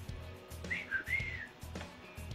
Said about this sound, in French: Est-ce que tu sais siffler?